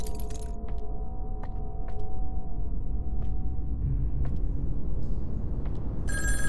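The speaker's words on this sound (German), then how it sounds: "Telefon." An old telephone rings in the game In Sound Mind, a series of short sharp metallic bell rings repeating at irregular intervals over a low steady hum, fairly close and distinct.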